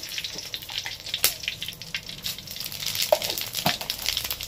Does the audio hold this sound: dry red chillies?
yes